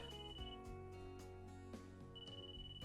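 A phone rings in the visual novel Re:Hoshi Ori Yume Mirai, a steady melodic ringtone that repeats under the game's background music, quiet and with no talking.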